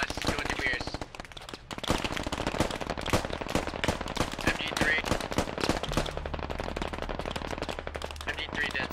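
MG3 machine gun firing in the military shooter game Squad, dense rapid bursts of automatic fire close and loud throughout, with other gunshots mixed in and voices talking over the shooting.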